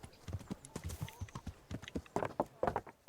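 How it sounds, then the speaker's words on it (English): Horse hooves clip-clopping in the medieval game Kingdom Come: Deliverance, a quick irregular series of sharp knocks, close and fairly crisp, with no talk over them. "there's his horse"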